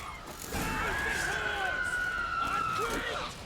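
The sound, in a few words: sirens (monsters) screeching in the video game The Witcher 3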